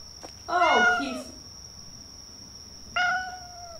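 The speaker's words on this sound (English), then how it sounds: "I just heard a fucking meow." A cat in the horror video game The Bathhouse gives two clear meows, a longer wavering one and a short second one a couple of seconds later, over a steady high electronic hum.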